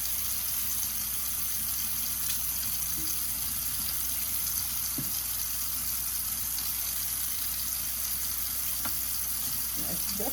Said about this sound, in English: I'm gonna fill the sink up a little bit